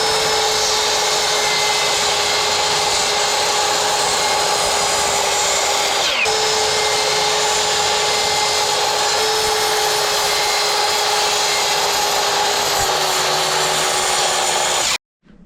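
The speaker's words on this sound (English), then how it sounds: "So now you know you can use your Ryobi 10-inch saw here to cut your" A Ryobi 10-inch power saw cuts through 4x6 lumber during a heavy-duty workbench build, a steady, close motor whine with grinding bite that runs continuously for about fifteen seconds, then cuts off abruptly.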